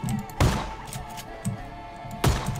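Two sharp handgun shots in a first-person shooter video game, spaced about two seconds apart, loud and close, with a faint low game ambience between them.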